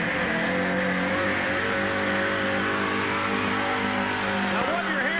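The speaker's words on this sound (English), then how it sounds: "Now, what you're hearing is something that sounds like an Indianapolis car." A Ford F-250 pulling truck with a 675 cubic inch Ford engine screams at high RPM during a truck pull, a loud, continuous, dense roar heard at a distance over crowd noise.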